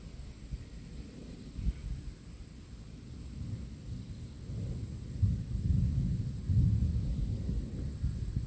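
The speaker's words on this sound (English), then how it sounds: "I thought thunder was a bit louder." Thunder from a storm near southeastern Pennsylvania rolls as a low, distant rumble that builds and swells over several seconds against a faint steady background hum.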